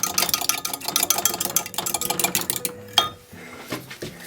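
Quick rhythmic clinks and scrapes as a utensil whisks eggs in a bowl, close up, pausing briefly near the end.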